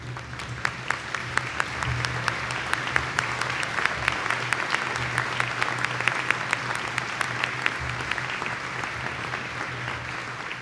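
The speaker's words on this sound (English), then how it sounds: "join me by honoring them with your applause" Sustained applause from a commencement audience honoring faculty and emeritus professors at a master's and doctoral graduation ceremony, a steady dense clapping wash lasting throughout with a low hum underneath.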